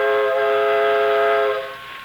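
A steam train whistle sounds in an old-time radio drama, a loud, sustained multi-tone blast holding steady for about a second and a half before trailing off, with no voices over it.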